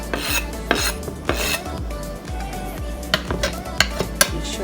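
Garlic, onions, scallion and thyme go into a cooking pot for Haitian black bean purée, with a series of sharp clinks and scraping clatters repeating at uneven intervals, close and fairly loud.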